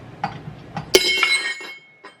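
A small object drops into a glass bowl in a home kitchen, giving a bright clink that rings on with a sustained glassy tone, after a few softer taps and knocks.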